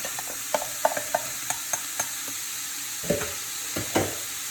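A spoon stirs potatoes into a pot of homemade split pea soup, knocking sharply against the side in a quick run of taps. Slower, wetter scrapes follow over a faint steady hiss, with no talking.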